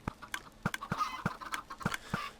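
Minecraft chickens in an automatic chicken cooker give a series of about eight short clucks in an irregular rhythm, crisp and close, with faint sizzling between them.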